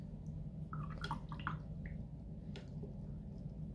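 A paintbrush is swished and dabbed in a pot of water, giving a few soft drips and squishy splashes close by, followed by quiet.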